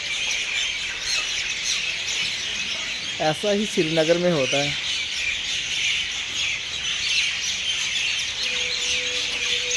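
Many small birds chirp and twitter in a steady outdoor chorus on a morning at a hillside fair site in Poonch, with someone speaking briefly over it.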